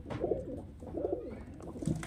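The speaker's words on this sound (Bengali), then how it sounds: "এই যে দেখুন পায়রার কোয়ালিটি দেখুন।" Pigeons of Giribaz, Teddy and Kalduma breeds coo close by in soft, low, throaty bursts, three rolling calls over about two seconds against a faint background murmur.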